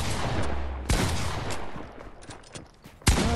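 Gunfire with two sharp, loud shots about two seconds apart, set against a steady, noisy background.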